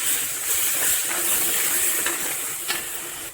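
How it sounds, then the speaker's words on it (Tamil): Ground tomato sautés in hot oil for a brinjal kara kuzhambu, producing a continuous close, bright hiss and sizzle that stays steady throughout, with no voices. "இப்போ இந்த அரைச்ச தக்காளியை போட்டுருங்க போட்டு அதையும் நல்லா வதக்கணும்"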